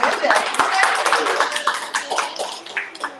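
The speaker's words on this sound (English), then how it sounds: "Everybody, let's give Lisa a round of applause." Audience applause after a professional makeup session, a brief patter of clapping that rises and then thins out, heard under and between a presenter's speech.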